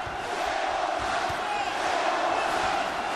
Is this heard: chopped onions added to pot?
no